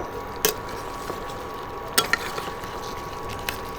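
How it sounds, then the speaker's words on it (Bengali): Potatoes and spices being stir-fried in a pan, heard as a soft, steady sizzle with a few sharp scraping clicks of a spatula against the pan, fairly close and with no talking. "আলু আর মশলা একটু ভালো করে কষিয়ে নেব"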